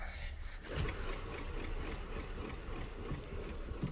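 The engine of a 1995 Oldsmobile Cutlass Ciera SL at a salvage yard in Peoria, Illinois runs with a steady, rough rumble that shakes the car, heard up close and continuous throughout.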